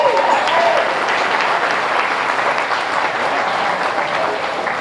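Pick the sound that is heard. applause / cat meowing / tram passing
applause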